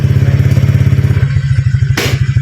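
Honda Click scooter engine idling loud and close after repair, a steady fast low putter with a brief hiss-like burst near the end.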